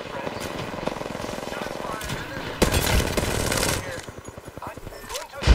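Rapid bursts of automatic gunfire from the Apex Legends battle royale game crackle steadily throughout, swelling into a louder, denser volley midway before thinning into scattered shots, with faint voice chatter in the mix.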